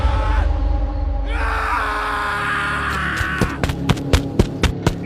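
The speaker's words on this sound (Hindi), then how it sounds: "चिल्लाने की आवाज सुनाई देती है।" A man's scream in a horror story about a haunted mall, a long strained cry that breaks off, followed by a series of sharp knocks or thuds, close and loud.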